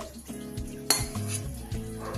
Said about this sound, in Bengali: এবার আমি এই বক্সের মধ্যে ভেজে রাখা পনিরগুলো কড়াই থেকে